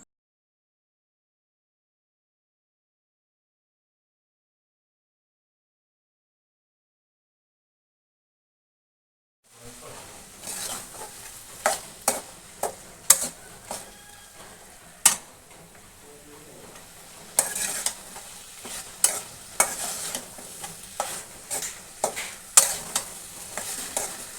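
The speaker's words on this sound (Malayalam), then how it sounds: "അത് ഇതിലേക്ക് ആഡ് ചെയ്യുകയാണ് കേട്ടോ എന്നിട്ട് നല്ലപോലെ നമ്മൾ ഇളക്കി യോജിപ്പിക്കണം" Cooked squid being stirred into a tamarind masala in a pan, with sizzling and frequent sharp spatula scrapes and taps against the pan that start after roughly ten seconds of silence and carry on to the end.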